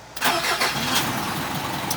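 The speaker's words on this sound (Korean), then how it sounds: "제가 한번 시동 켜보겠습니다" A 2021 Isuzu 3.5-ton, 190-horsepower wide wing-body truck starts with a short cranking burst, then its engine catches and settles into a steady, close idle.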